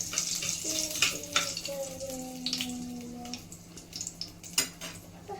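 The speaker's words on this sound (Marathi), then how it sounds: "जिरं आणि कढीपत्ता चांगलं फ्राय करून घ्यायचं आहे." Cumin seeds and curry leaves sizzle and spit in hot oil for a Maharashtrian fasting dish, a steady crackling hiss broken by a few sharp pan clinks, with a faint tonal sound running underneath.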